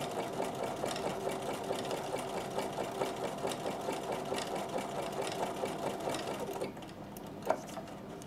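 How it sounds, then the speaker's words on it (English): Bernina sewing machine zigzag stitching around the edge of a fabric postcard, a steady close mechanical whir with rhythmic needle ticks that runs for most of the clip, then stops with a single sharp click. "I'm going to put my needle stop down function on, and I'm going to sew all the way to the end here"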